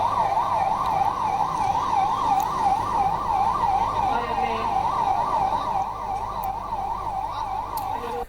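A 108 Sanjeevani ambulance siren wails in a steady rapid up-and-down cycle, loud and close, over the rumble of road traffic, with no voices.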